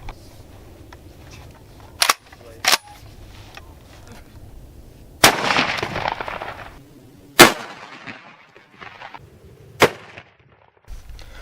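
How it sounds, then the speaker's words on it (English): A Remington Slugger 1-ounce slug fires from an 18-inch Weatherby smoothbore shotgun in a sharp, loud blast with a rumbling tail, among several other sharp cracks and clicks spaced through the outdoor scene. "We're gonna be firing a round from an 18-inch Weatherby shotgun smoothbore"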